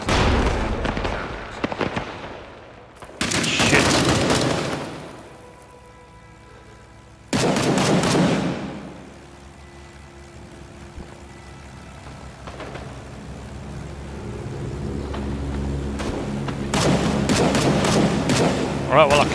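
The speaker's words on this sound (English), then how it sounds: "I can hear him firing wherever the bastard is" Sniper rifle shots boom in the Vietnam-era shooter game Rising Storm 2, several loud sharp reports spaced seconds apart with rumbling tails, amid battlefield ambience and a speaking voice.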